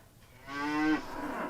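A cow moos on a 300-cow dairy farm, a single long, loud, low call that swells and then fades off, heard on its own.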